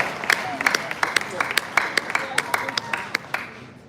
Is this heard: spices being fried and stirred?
no